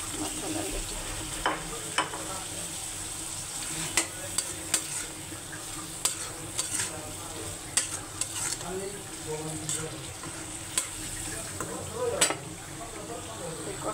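Fish head frying in a pan of cooked-down spices, with a steady sizzle and repeated scraping strokes of a spatula stirring it, close and continuous.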